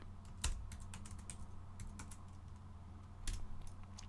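Someone types a Linux command such as ls on a computer keyboard, giving a quiet run of quick key clicks with two heavier taps, likely the Enter key, near the start and end. Close and soft, with no speech.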